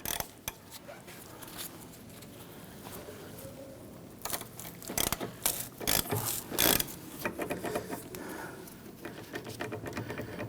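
A number 7 Allen key works a parking brake bolt loose on a 1999-2004 Jeep Grand Cherokee, giving close metallic clicks, ratcheting and creaks in irregular bursts.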